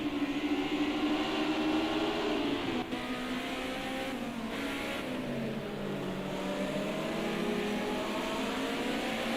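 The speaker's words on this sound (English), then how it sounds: "you can just hear this, how this engine screams" A racing car engine in a video game Group A esports race at COTA screams at high revs, a steady sustained whine with shifting pitch, loud and close, with no voices.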